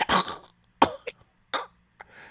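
A voice performs several harsh coughs, four separate bursts spaced over about two seconds, close and fairly loud, imitating a character coughing up blood.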